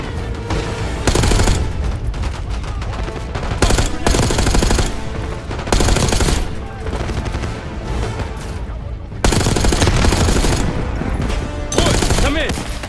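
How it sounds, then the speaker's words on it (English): Sustained machine gun cover fire in Black Ops 6, loud and dense bursts hammering almost continuously with brief pauses between volleys. "Give us some cover fire."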